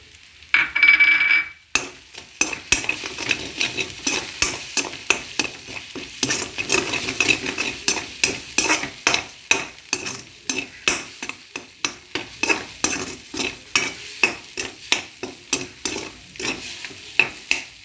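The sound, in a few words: garlic paste frying and being stirred for chicken fried rice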